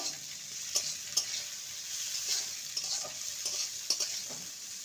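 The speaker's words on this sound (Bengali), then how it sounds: "সবজিগুলো ভাজা হয়ে গেছে" Steady sizzling of vegetables with chopped onion and green chilli frying in a pan, with repeated scrapes and taps of a spatula as they are tossed.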